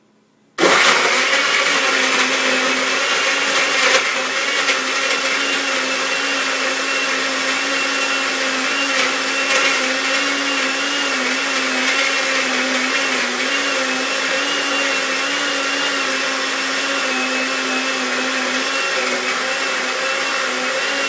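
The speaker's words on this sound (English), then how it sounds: "I'll blend this up first before I start putting in some solids and some leaves, just to make sure that all the powders are blended up" A blender whirs loud and steady for about twenty seconds, mixing protein powders with liquid for a green smoothie, starting abruptly after a moment of silence with a constant motor drone and no talking.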